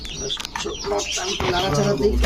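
Pigeons coo softly and repeatedly close by at a bird market, mixed with chirps and background chatter from people nearby.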